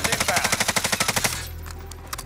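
Close, rapid automatic gunfire in Call of Duty Warzone: a fast, even string of about a dozen shots that stops abruptly, leaving faint ambient game noise.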